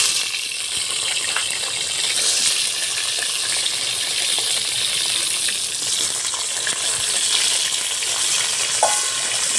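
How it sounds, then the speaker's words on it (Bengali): Eggplant pieces frying in hot mustard-style cooking oil for a vegetable shukto, giving a loud, steady, dense sizzle that runs unbroken throughout with no one talking. "তেলটা গরম হয়ে গেছে, বেগুনগুলো দিয়ে দেবো।"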